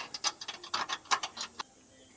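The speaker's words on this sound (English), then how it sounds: "Gotta use a wrench the rest of the way." Wrench tightening an air bag fitting on a truck suspension: a quick series of soft ratcheting clicks and metallic ticks, fairly faint and close, ending abruptly.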